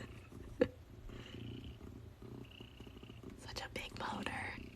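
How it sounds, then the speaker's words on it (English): A big fluffy orange cat purrs with a soft, low, steady motor-like rumble, faint and close, under quiet whispering and a few small handling noises. "He's just sitting there purring like crazy."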